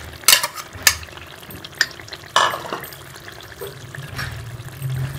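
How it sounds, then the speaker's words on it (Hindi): Masala mixed with whisked yogurt sautés in a pan for fish curry, with a spatula clacking and scraping in a few distinct strokes over a low sizzle, close by and without speech. "इसको भी दही को भी अच्छी तरह से भून लेंगे"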